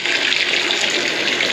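Water running steadily from a shower faucet with a faulty cartridge and no cold water, a loud, continuous hiss of flow that holds constant with no talk over it.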